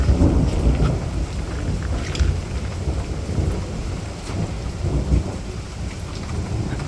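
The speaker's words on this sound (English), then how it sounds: "Thunder and lightning and rain," A thunderstorm near the water, with steady heavy rain hissing down and low rolling rumbles of thunder filling the background throughout, with no talking.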